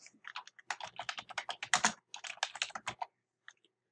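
Rapid typing on a computer keyboard, close and fairly loud, dense bursts of keystrokes for about three seconds, then a few isolated taps, with no voices.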